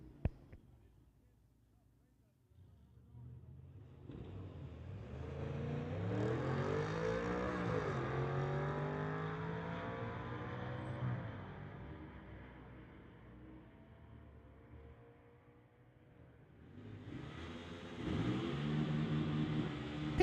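A Ford truck runs a street-legal drag race on the strip, its engine rising in a long revving pull that fades away, then a second loud engine swell near the end, with an announcer talking over it.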